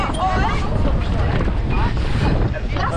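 Strong wind roars and buffets the microphone in continuous gusts at sea off Trieste during a sailing regatta, with voices faintly audible beneath the rumble.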